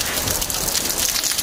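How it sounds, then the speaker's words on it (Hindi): Steady rain falls over a Pakistani village in the early morning, a dense, even hiss of drops hitting surfaces close by, continuous and fairly loud with no voices. "मेरे ऊपर भी बारिश"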